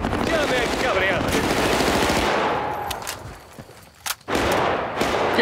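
Machine gun suppressing fire in Battlefield Bad Company, a dense loud rattling burst of automatic shots that fades, then a few single cracks and renewed firing, under shouted voices.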